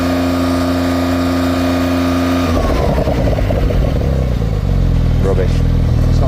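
Porsche 911 Sport Classic held stationary, engine idling smoothly then revved hard against a soft limiter at 3,500 RPM, a loud flat buzzing roar that holds and wavers, with voices talking over it.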